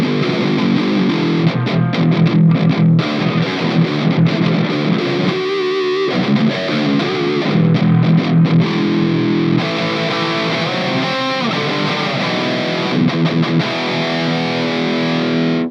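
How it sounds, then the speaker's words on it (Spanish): A Krul eight-string multiscale electric guitar played through a high-gain red distortion channel, dense saturated riffs and sustained chords ringing loud and continuous with brief choppy stops, no voices. "en el canal rojo le tengo seteado ahorita con modo de ganancia alto, casi sin boost porque igual estas pastillas tienen bastante ganancia"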